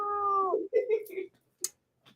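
A house cat lets out a meow followed by shorter vocal sounds, close and fairly loud, with speech-like tones mixed in and a few quick clicks after.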